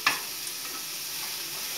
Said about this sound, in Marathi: हे चांगला म्हणजे ब्राऊन गोल्डन ब्राऊन असा कांदा झाला पाहिजे, असं भाजून घ्यायचं